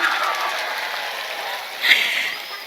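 Audience at an Islamic religious gathering claps together, a steady soft patter of many hands heard at moderate distance with a slight swell toward the end.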